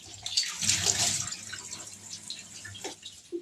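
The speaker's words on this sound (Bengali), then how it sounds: "দেখো বাসন ধোবো এবারে, দেখো এবারে বাসন ধোবো।" Dishes are washed in a home under a running tap, with splashing water, clinks and dripping in short uneven bursts close by.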